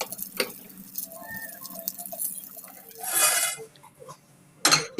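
Shish tawook chicken pieces being flipped in a pan, light clinks and scrapes of a utensil against metal with two short bursts of sizzling, close and without talk.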